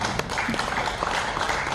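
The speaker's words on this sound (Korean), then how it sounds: "박수 환영해 주시죠" Audience applause at a literary discussion forum in Jeonju, a broad, steady wash of clapping held at a fairly even level for under two seconds, with no voices on top.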